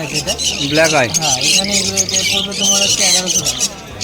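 Lutino Fischer's lovebirds squawk at a busy bird market, with harsh, rising chirps and screeches repeating close by for the whole stretch while people talk nearby.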